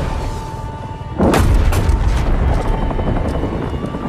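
A target blows up in Call of Duty: Modern Warfare, a sudden loud boom that rolls into a sustained rumbling roar over a steady drone of aircraft or engine noise.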